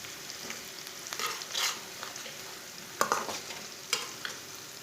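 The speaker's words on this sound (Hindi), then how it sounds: "इसे चम्मच चलाते हुए ब्राउन कर लेना प्याज को" Onion browns in hot oil while a spoon stirs it, soft steady sizzling broken by several sharp scraping clinks of the spoon against the pan, close and with no voices.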